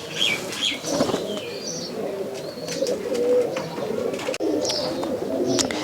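Mushki Dobas pigeons at a pigeon farm flapping their wings in repeated bursts close by, mixed with soft cooing and chirps, with no voices.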